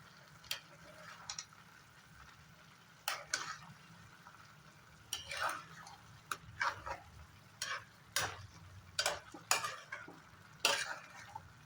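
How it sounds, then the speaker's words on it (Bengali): Spoon scraping and knocking in a bowl as chopped sabji vegetables with mustard are mixed together, a series of faint irregular clinks and stirring taps without talk. "এখন সবগুলো জিনিস একসাথে মিলিয়ে দেবো"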